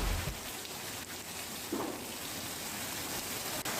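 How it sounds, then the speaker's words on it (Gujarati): Rain falls over the rural area around Prantij in Sabarkantha as a steady, fairly faint broadband hiss, with no talk. "પ્રાંતિજ અને ખાસ તો આસપાસના જે ગ્રામ્ય વિસ્તારો છે ત્યાં અત્યારે વરસાદ વરસી રહ્યો હોવાની જાણકારી પ્રાપ્ત થઈ રહી છે"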